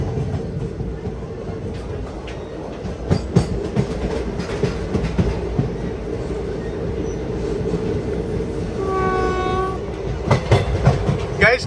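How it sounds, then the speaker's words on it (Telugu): Tirupati Express train pulling out of Puttur through hilly country, a steady rumble and clickety-clack of wagons with a horn sounding near the end, no talk. "పుత్తూరు నుంచి మన ట్రైన్ అయితే బయలుదేరిపోయింది"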